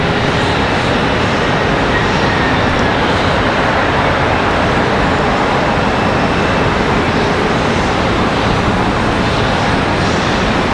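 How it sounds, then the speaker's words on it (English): American Airlines flight 854 from Seattle arrives at Charlotte Douglas, a loud, continuous jet roar filling the whole stretch, close and unbroken, with no voices over it. "That one, American Airlines 854 coming across from Seattle."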